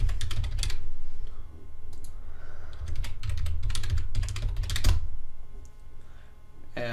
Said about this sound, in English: I'm gonna type in password hint